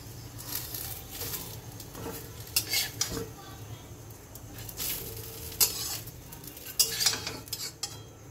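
A metal spatula scrapes and cuts through chita pitha, a thin rice-flour pancake, in a pan, giving repeated close scraping and tapping over a low sizzle, with a few sharper metallic clinks.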